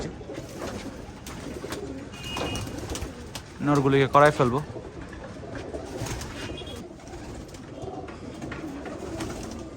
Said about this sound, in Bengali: কবুতরগুলো দেখেন দর্শক কত সুন্দর